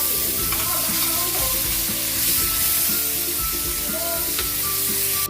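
Chicken sizzling loudly in a hot pan with onions, a dense continuous crackle and hiss with scattered pops and scraping clinks of stirring, close and steady throughout.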